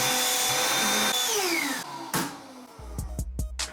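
Black & Decker PD1820LF 18V handheld cordless vacuum cleaner whining loudly up close, then switched off so its pitch sinks as the motor winds down, followed by a few short clicks and knocks of handling.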